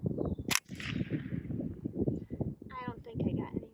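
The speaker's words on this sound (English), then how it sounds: "All right, we'll let Kelly take a few rounds." Gunfire at an outdoor shooting range, a sharp close shot near the start ringing out over steady talk and outdoor noise, followed by a fainter metallic report later.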